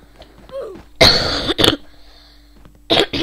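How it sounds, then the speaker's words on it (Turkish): A few harsh, close coughs in short bursts, separated by brief quiet moments, with a throat-clearing sound among them. "öksürük bastı beni de bugün"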